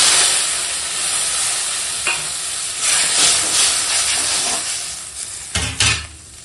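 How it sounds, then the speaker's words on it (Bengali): Water poured into a pan of hot, cooked-down masala with melted tomato sets off a loud, steady hiss and sizzle that swells and crackles over several seconds, with a couple of sharper bursts near the end. "এখন দিয়ে দেবো জল।"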